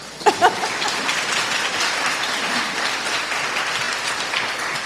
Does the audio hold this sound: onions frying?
no